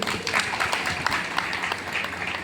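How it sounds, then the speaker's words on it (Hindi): Audience applause at a business recognition event held on stage, a steady roll of many hands clapping through the whole short stretch, moderately loud, with no voices over it. "सभी गुरुओं के लिए भी एक बार जोरदार ताली होना चाहिए।"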